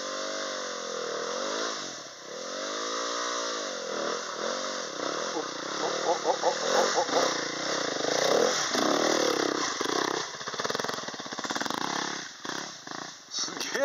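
A motorcycle climbs a steep forest trail, its engine rising and falling in repeated revving surges that grow louder and rougher midway, with people talking and reacting over the engine noise.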